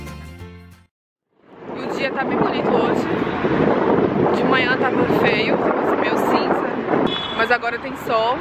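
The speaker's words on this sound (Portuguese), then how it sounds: "muito frio aqui e tá ventando muito" Strong wind buffets the microphone high atop the Arc de Triomphe in Paris, a loud, continuous roaring rumble that fills the scene after a brief pause, with a voice talking over it.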